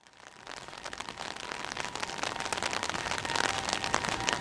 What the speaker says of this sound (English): It's raining quite heavily.